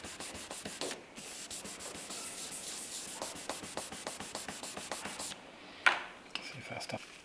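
Fresh paint on a car panel being nibbled flat with 2000-grit paper wrapped on a block, a steady close rubbing scratch in quick back-and-forth strokes, followed by a brief knock and handling sounds near the end.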